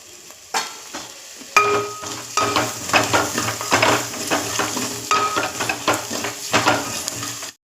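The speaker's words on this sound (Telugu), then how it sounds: "ఇలా ఫ్రై చేసుకోవాలి." Ginger paste with turmeric sizzles in a pan while a spoon scrapes and stirs it in quick repeated strokes, close and clear with no talk.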